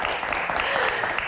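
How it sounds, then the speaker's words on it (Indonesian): A studio audience at a televised Q&A talk show claps in a brief, dense wash of applause at a steady level. "Tepuk tangannya mana, teman-teman?"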